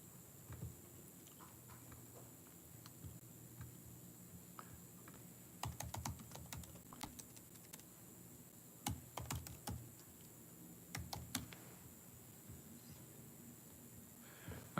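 A zip code is typed on a computer keyboard in short, quiet bursts of key taps separated by pauses, with a faint background hum and no talk.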